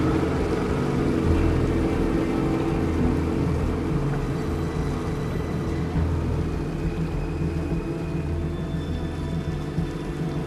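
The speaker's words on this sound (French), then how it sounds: "Bon, aidons-nous du moteur pour tirer cette chose." In a video game, a boat engine tows something with a steady, low, droning rumble that holds evenly throughout, without pause.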